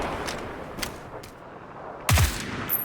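Gunfire in the PUBG Mobile battle royale game: a couple of faint distant shots, then one loud close burst of rapid shots.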